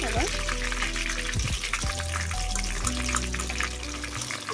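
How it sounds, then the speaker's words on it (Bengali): Chicken pakora fries in hot oil with a steady, continuous sizzle and bubbling that stays loud throughout, joined by a few lower clunks and tones near the pan. "এটা আমি ফার্স্টবার ভাজলাম, আবার দ্বিতীয়বার তখন আবার ভেজে নেব।"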